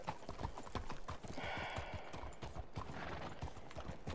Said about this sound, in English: get my damn horse back